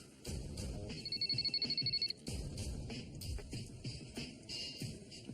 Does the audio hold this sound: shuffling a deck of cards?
no